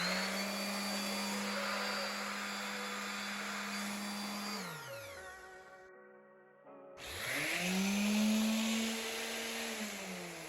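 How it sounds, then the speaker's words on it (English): A Craftsman CMEW231 5-inch random orbital sander runs with a steady high whine, cuts off and spins down to silence, then restarts and ramps back up, loud and close. "As far as the sound goes, this is as loud as any other sander."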